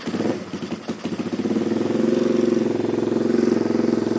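A Honda Megapro 215cc engine in a flat-track motorcycle build sputters unevenly at first, then settles into a loud, steady, rapidly pulsing idle close by.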